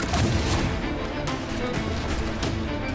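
Ship cannons fire in Assassin's Creed 4: Black Flag during a naval battle, several dense booming blasts overlapping in a continuous loud barrage with no pauses.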